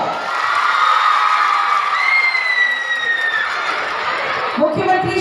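A crowd at a government event in Rajrappa cheers and applauds for beneficiary Karmi Devi, with loud, sustained clapping, shouts and children's voices all the way through.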